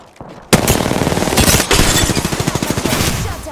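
Rapid automatic gunfire in Apex Legends bursts in suddenly and loudly, holding as a dense, continuous stream of close shots with a steady rhythmic rattle until the end.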